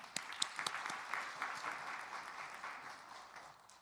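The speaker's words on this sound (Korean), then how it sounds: "박수 한번 보냅시다." Congregation applauding during a Sunday worship service at a Presbyterian church, a steady wash of many hands clapping at moderate level throughout, with a few sharper claps standing out early on.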